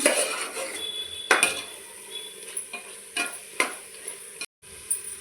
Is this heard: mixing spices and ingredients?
yes